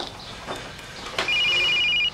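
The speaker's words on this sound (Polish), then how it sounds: "Telefon." A telephone on a film set rings once with a short electronic trill near the end, close and clear, over quiet room noise.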